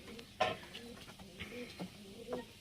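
Giribaz pigeons cooing in short, soft bursts with a brief louder call near the start, fairly quiet and close, with faint background noise.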